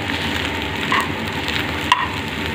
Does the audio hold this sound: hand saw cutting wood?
no